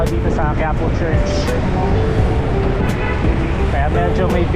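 Dense Sunday street traffic near Quiapo Church in Manila: a steady close roar of cars and buses with several short horn toots, alone for the whole stretch.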